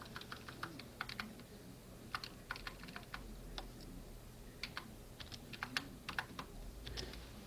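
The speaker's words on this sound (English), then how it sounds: "as we're typing on the editor" Computer keyboard clattering under steady, uneven typing while code is written in an editor, with quick clustered keystrokes and brief pauses, close and quiet over a low room hum.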